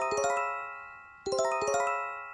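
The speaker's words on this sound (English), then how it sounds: "I was blasted awake once again by the haunting sound of my phone alarm" Two bursts of a bright, bell-like electronic chime melody ring out loudly from a phone earthquake early warning alarm in Japan, each pattern repeated with a short gap between them.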